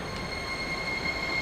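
A train in Tokyo rolls along with a steady rumble and a thin, high metallic squeal from the wheels running through it the whole time.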